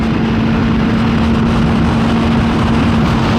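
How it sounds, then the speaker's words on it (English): A motorcycle engine passing in road traffic, a loud steady drone with a low hum, close by and without talk. "the bike did sound amazing"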